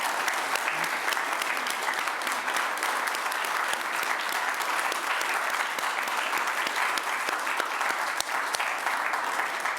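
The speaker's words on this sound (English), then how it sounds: "Well, let's have a round of applause," A symposium audience applauding after a talk: dense, sustained clapping from many hands, loud and unbroken for the whole stretch.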